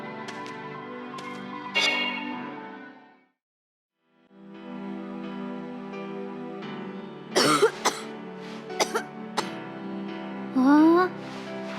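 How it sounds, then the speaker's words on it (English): A few short coughs and throat clearings cut between stretches of sustained musical tones, moderately close and quiet against the tones, with a brief silent gap early on. "you sure cough a lot sometimes"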